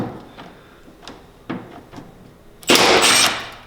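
Milwaukee M12 stubby 3/8-inch impact wrench (2nd gen), on its number 1 setting, removing a rusty bolt: a few light clicks, then one loud, dense, roughly half-second burst of hammering close up.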